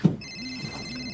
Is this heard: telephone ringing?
yes